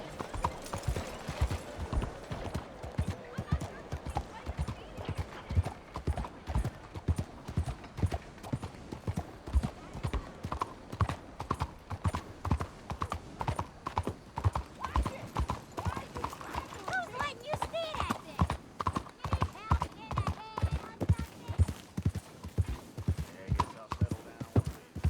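A horse in Red Dead Redemption 2 gallops through Saint Denis, its hoofbeats pounding in a fast, continuous rhythm close by for over twenty seconds, with a whinny and some nearby speech mixed in.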